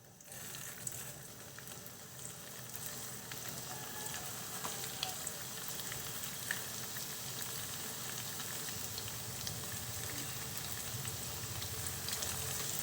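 Meatballs with misua noodles frying in hot oil, giving a steady, dense sizzle with crackling pops that holds at an even loudness for the whole stretch, no talking.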